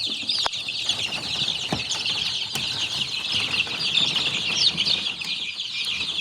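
Sick chicks with diarrhea peep in a high, dense, continuous chorus, near and steady, with occasional faint clicks and knocks underneath.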